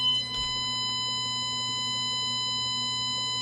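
K9 Mint bark collar giving a warning beep, a steady electronic tone sounding near and continuous under a faint hum, with no voices.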